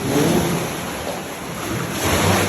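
Ocean waves crash into a slippery, echoing spot by the sea, a steady loud roaring wash with swelling surges and windy rumble, no voices present.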